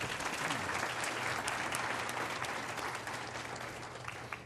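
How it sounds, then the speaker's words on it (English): Audience applauding a health care workforce panel at a health policy summit, dense continuous clapping from a room full of people that tapers slightly toward the end, with no talk over it. "So could we just give them all a round of applause?"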